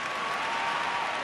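Crowd applause at a 2008 AFL football match between Essendon and St Kilda, a dense, steady wash of clapping from a large stadium crowd, even in level throughout.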